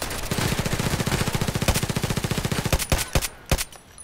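Rapid sustained machine gun fire in the video game Contract Wars, a loud fast rhythmic burst lasting several seconds before breaking into a few separate shots.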